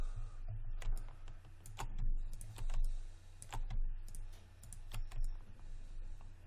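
Keyboard shortcuts typed on a computer keyboard: clear, close key clicks in small irregular bursts over a low steady hum, no talking.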